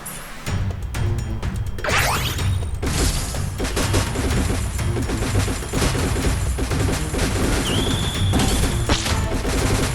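The Plasma-X gun in a video game fires in dense, continuous bursts, loud and close, with crashing impacts and a brief whoosh over the rapid shots.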